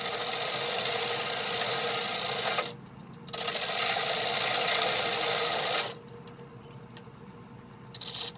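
A walnut blank for a combined bowl and plate spins on a wood lathe, giving a steady, loud raspy cutting noise that stops briefly twice before resuming near the end.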